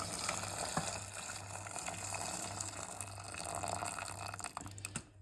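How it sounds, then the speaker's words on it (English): Water pours steadily from a tap into a pan for making pasta, a continuous gushing splash with a faint low hum underneath, fairly quiet and alone, cutting off abruptly at the end. "First, I'm gonna pour some water"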